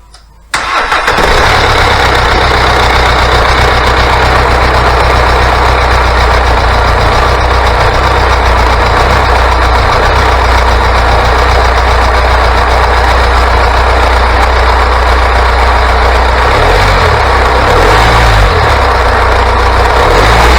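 A 1980s-era VW TDI diesel donor engine, freshly fitted with a new battery, cranks briefly and catches, then settles into a loud, steady idle with a deep low rumble that continues to the end.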